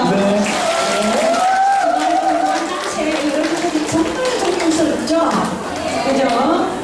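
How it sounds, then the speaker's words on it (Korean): An audience claps steadily at an elders' feast in Dongsam 2-dong, Busan, over an amplified voice speaking throughout. "여러분들 박수 한번 주세요."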